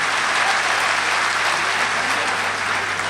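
Sustained, loud audience applause at a Hindi-Urdu poetry recital, a kavi sammelan and mushaira in Ichalkaranji, steady dense clapping from a large crowd filling the whole stretch without talk.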